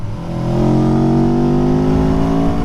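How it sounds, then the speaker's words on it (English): A 2018 Aprilia Tuono Factory V4 motorcycle engine revs up loudly and smoothly, its pitch climbing steadily as the throttle opens, close and alone. "That V4 sound."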